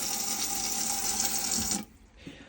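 Water runs steadily from a tap in a Knaus 700 MEG motorhome, fed by a submersible pump in the tank, a close, continuous hiss that stops abruptly near the end, leaving a faint clunk.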